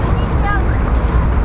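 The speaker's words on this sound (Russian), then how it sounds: "Ветер сегодня ледяной, северо-западный." Icy northwest wind buffeting an outdoor microphone near a shipyard on a gravel bike ride, a loud continuous rumbling roar with no talking.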